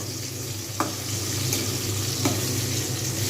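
Pieces of eggplant sizzle in a shallow layer of hot oil in a pan, a steady close frying crackle with a couple of soft clinks from stirring.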